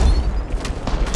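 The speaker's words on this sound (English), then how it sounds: "Shooting at me!" Rapid bursts of gunfire in the battle royale shooter Apex Legends Mobile, loud and booming with heavy low end, firing in quick succession with no talk over it.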